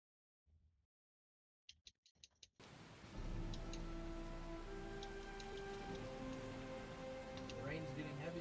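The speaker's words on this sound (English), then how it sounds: "The rain's getting heavier." After a few brief knocks, steady heavy rain starts and pours continuously, a loud broadband hiss with scattered drips and patters on a surface.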